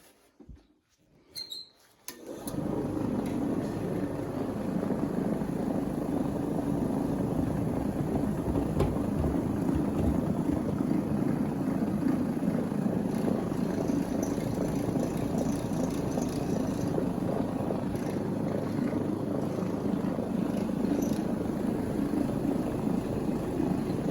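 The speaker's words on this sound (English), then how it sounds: "now we're going to soak it up into the pad using the Trinity orbital machine right here" A Trinity orbital carpet cleaning machine runs on carpet being treated for a tomato juice stain. It starts after a brief clunk, then holds a loud, steady whirring drone without letup, and no one speaks.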